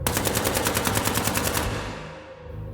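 Rapid machine-gun burst as a sound effect, about a dozen evenly spaced loud shots in quick succession, then a fading echoing tail.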